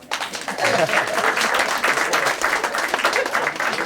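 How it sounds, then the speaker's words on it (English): Audience clapping at a community forum in the Bronx, a steady dense wash of many hands that holds loud and even for several seconds, with faint voices mixed underneath. "You can clap, go ahead."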